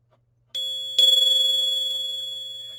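A post-war Japanese bell with its clapper mounted on the outside is struck twice, giving a sharp metallic hit and then a loud, clear ringing tone that holds steady and slowly decays, heard close up with no talking.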